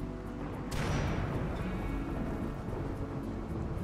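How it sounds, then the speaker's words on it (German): Steady rain with a thunder crack in the video game RimWorld, a broad continuous hiss with a low rumbling strike early on that fades into a wash of rainfall. "Aber jetzt regnet es."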